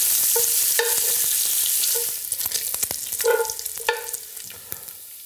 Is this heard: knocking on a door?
no